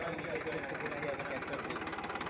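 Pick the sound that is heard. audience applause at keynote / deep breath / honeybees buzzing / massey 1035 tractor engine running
massey 1035 tractor engine running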